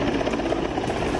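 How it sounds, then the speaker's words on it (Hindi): Indian Air Force helicopters fly a flood rescue mission over Rajendra Nagar in Patna, making a loud, steady rotor and engine roar that fills the whole short stretch without any talking. "पटना में भारतीय वायुसेना के 2 हेलीकॉप्टर्स रेस्क्यू मिशन में जुटे हैं।"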